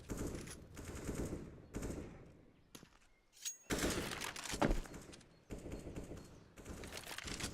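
Rapid bursts of video-game gunfire crackle loudly in a collegiate esports match as players pre-fire angles, with short volleys separated by brief lulls.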